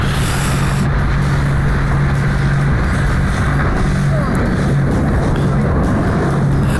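A speedboat on a cruise excursion runs at full throttle, its engine a loud, steady drone with constant wind and water rush, close and continuous throughout.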